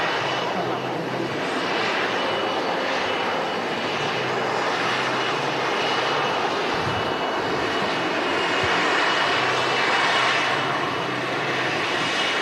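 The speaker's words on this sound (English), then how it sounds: "It's an Embraer E135, this legacy aircraft." Embraer E135 jet at Manchester Airport, a loud steady engine roar with broadband rushing noise that swells slightly, heard from close by and continuous throughout.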